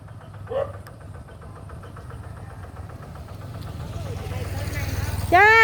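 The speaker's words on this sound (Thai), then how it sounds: "นี่นี่มีรถไถมาแล้ว" A farm tractor engine rumbles low and steady in a traditional village, slowly growing louder as it approaches, with voices and a brief call near the end.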